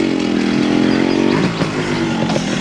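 A motorcycle engine idles steadily and close by, its low drone holding through most of the moment with a slight change near the middle and no talking over it.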